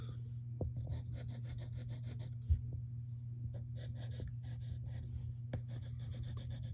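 A pencil scratches across paper in short, quiet strokes with small gaps between them, faint and close against a low steady background hum.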